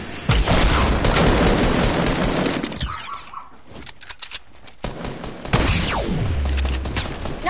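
Loud gunfire and explosive blasts in a Fortnite battle royale match, dense overlapping shots and booms that drop to a quieter stretch of scattered pops before another heavy burst.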